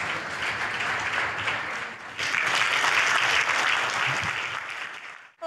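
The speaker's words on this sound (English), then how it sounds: "Clap for Jesus." A church congregation claps for Jesus at a healing and testimony service, steady dense applause swelling louder partway through and continuing strongly before cutting off abruptly at the end.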